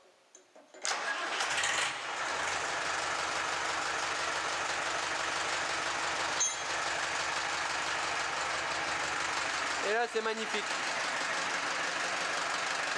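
A Deutz 6206 tractor's engine cranks on the key, fires and settles into a loud, steady diesel rumble close by, with someone speaking briefly over it.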